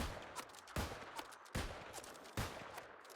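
Gunshots from the ultimate shot in the New World video game: four heavy, sharp blasts spaced under a second apart, each trailing into a short reverberant tail, fairly faint overall with no talking.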